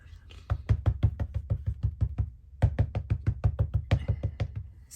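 Rubber stamps are pressed onto paper in two quick bursts of rhythmic thumping taps, roughly a dozen each, close and fairly soft with a brief pause between the runs.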